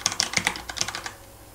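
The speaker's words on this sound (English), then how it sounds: "I'm going to be showing you the sounds of the Corsair keyboard." Typing on a Corsair Vengeance K70 mechanical gaming keyboard with red switches gives a quick burst of close, crisp key clicks and clacks, then trails off into quiet.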